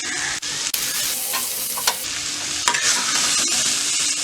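Potato and broccoli dry roasting uncovered in an open pan, with a steady close sizzle and intermittent scraping stirs of a spatula, no voices.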